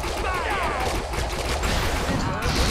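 Rapid bursts of gunfire from the shooter video game Defiance crackle in a dense, continuous volley at moderate loudness, with sharper shots near the end.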